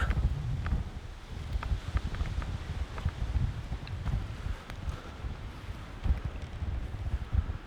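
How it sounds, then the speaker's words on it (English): Wind blows through a forest just after dark, a steady low rumble and rustle at moderate level with no voices. "It's getting windy."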